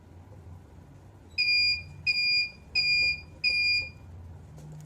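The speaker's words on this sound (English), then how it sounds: "the buzzer will start buzzing" A DIY noise-detector buzzer sounds four even, piercing beeps of about half a second each, spaced evenly over a faint low background hum.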